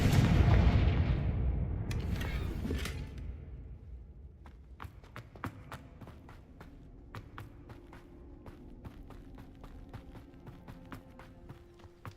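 A Confringo spell blast in Hogwarts Legacy erupts as a loud booming impact that fades over a few seconds, followed by scattered sharp cracks and steps in the game scene.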